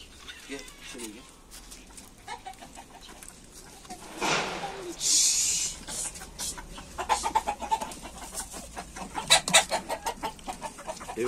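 Farmyard chickens cluck in short bursts around a poultry coop, with someone talking over them throughout; a louder close squawk stands out midway.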